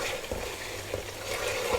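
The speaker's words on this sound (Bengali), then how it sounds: "এখন আমি ভিজে রাখা চিকেনগুলো দিয়ে দেবো।" Marinated chicken, coated in roast masala, yogurt, milk powder and a paste of ground nuts, onion and green chili, sizzles in frying masala. A steady, soft frying hiss runs beneath light stirring and occasional scrapes of a utensil.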